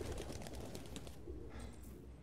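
Pigeons coo softly inside a run-down apartment in the video game Detroit: Become Human, a low murmuring warble over a faint, steady room hum.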